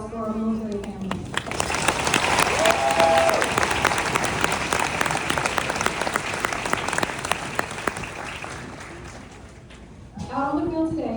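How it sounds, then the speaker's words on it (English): Crowd applause fills the outdoor Army bootcamp graduation ceremony, a sustained wash of clapping that swells and holds for about nine seconds, with a speaker's voice over a PA briefly at the start and again at the end. "please join me in a round of applause for our military families."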